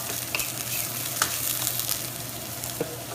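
Onions softening in a pan for chicken Parmesan give a steady close sizzle and fry, with a few light scrapes and clinks of stirring.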